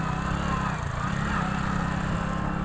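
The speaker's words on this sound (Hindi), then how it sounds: "आगे ट्रैक्टर चल रही है" A small tractor engine runs steadily on a road, a low continuous chugging drone that stays close and fairly loud throughout with no pauses.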